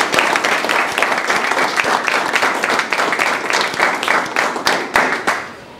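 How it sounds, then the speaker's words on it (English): An audience at a ceremony honoring a school football team applauds steadily, dense clapping that holds strong and then tapers off near the end. "Please give them a round of applause."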